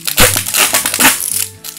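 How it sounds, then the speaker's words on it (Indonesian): Packing tape being peeled and torn off the plastic wrapping of a seedling package, giving loud crackling, crinkling rips in several bursts with no voices. "Jadi jangan khawatir saat membuka lakban."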